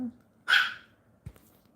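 A dog gives one sharp, fairly close bark, followed by a soft thump and quiet room noise.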